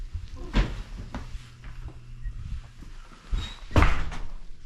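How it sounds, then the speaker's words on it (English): A door is pushed shut inside a family home, giving a solid thunk near the end, with a softer knock earlier and quiet household noise in between. "I'll shut the door."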